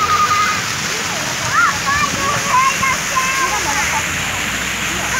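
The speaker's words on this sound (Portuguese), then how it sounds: "Tá saindo a água da frente do cavalo, hein?" Water pours and splashes from a horse statue fountain in central São Paulo, a continuous rushing spatter close by, with voices chatting and exclaiming over it.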